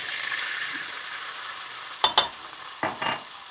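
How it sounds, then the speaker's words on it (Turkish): Flour is stirred into melted butter in a pan, giving a soft continuous sizzle, then two pairs of sharp scraping clinks from a utensil against the pan, close and without talk. "Şimdi içerisine bir su bardağı unumuzu ilave ediyoruz."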